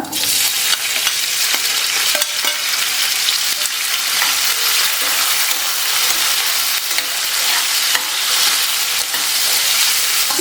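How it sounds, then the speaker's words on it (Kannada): Green grapes fry in hot oil with kalonji and fennel seeds for a sweet pickle, a loud, dense, steady sizzle running the whole time with occasional stirring scrapes and no voices. "ಸ್ವಲ್ಪ ಕಲರ್ ಚೇಂಜ್ ಆಗಬೇಕು ಅಲ್ಲಿವರೆಗೂ ನಾವು ಇದನ್ನು ಫ್ರೈ ಮಾಡ್ಕೋಬೇಕು"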